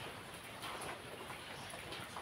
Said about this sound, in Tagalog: Mahinang ulan.